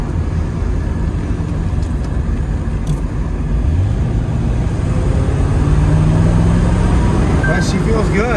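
1973 Chevrolet Corvette on the road with T-tops on and AC running, a loud steady low engine drone from inside the cabin with a subtle pitch change around a gear shift.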